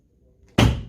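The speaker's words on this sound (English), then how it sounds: "that's the door popped." A door released by a solenoid pops open with one sharp, loud burst after near silence, then a brief rattling decay.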